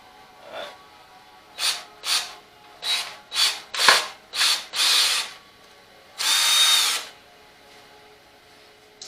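A cordless drill fitted with a small adapter bit drives a screw into an antique wooden table held by a clamp, sounding as a run of short whirring bursts followed by one longer sustained spin.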